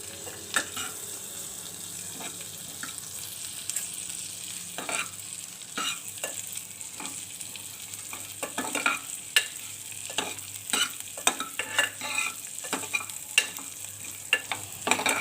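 Quiet sizzle of vermicelli frying in a pan until reddish, with frequent scraping and stirring clicks from a utensil, growing busier toward the end.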